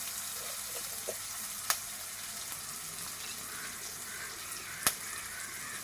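Curry leaves and green chillies sizzling in hot oil for a fish curry, a steady even frying hiss broken by a few sharp pops and spatters, with no voices.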